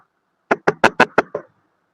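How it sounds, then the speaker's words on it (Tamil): Six quick, sharp knocks on a house door in an even rhythm, loud and close against silence. "கதவை தட்டி பார்ப்போம்"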